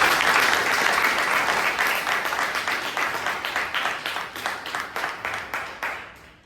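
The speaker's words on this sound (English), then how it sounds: "So please give him a big round of applause." A Toastmasters club meeting audience in Bangalore gives a big round of applause, dense steady clapping that gradually thins into separate, more distinct claps near the end.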